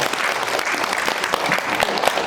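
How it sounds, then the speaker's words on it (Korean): A seated audience at a National Assembly consumer-rights forum claps to welcome the vice speaker, giving brisk, continuous applause that stays loud and even throughout the short stretch. "따뜻한 박수로 맞이해 주시면 감사하겠습니다"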